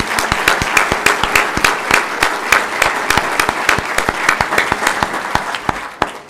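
An audience at a county inauguration ceremony applauds the staff, with crisp, scattered hand claps from a modest crowd that carry on steadily and then thin out at the end.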